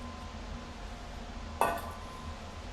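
Two eggs cracked into a mixing bowl of dry ingredients for snickerdoodle cookies, a single sharp crack and clink against the bowl over a quiet kitchen background.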